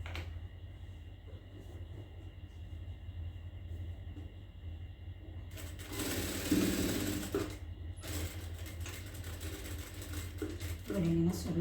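A sewing machine stitches a travel bag, a steady whirring run of the motor and needle that grows louder in bursts, with a low background rumble underneath.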